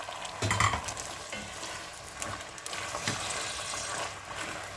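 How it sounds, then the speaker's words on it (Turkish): Beans frying in tomato paste in a pan, a close, steady sizzle with occasional stirring scrapes throughout, moderately loud and without talk. "Güzelce salçamı kavurdum. Fasulyelerimi de koydum."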